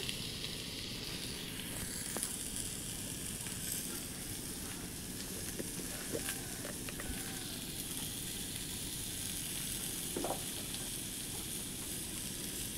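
Potatoes and chickpeas fry lightly in hot oil with a continuous soft sizzle, plus occasional stirring scrapes and clicks, close and steady with no talking.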